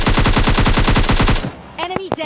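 Rapid bursts of shotgun fire from an S12 in the video game PUBG Lite, about a dozen loud evenly spaced shots in quick succession, followed by a short pause and a few softer game effects.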